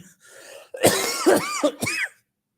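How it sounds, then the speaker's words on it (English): A few harsh coughs and throat-clearing bursts in quick succession, close and fairly loud, ending in silence. "I'm trying to get over this cough."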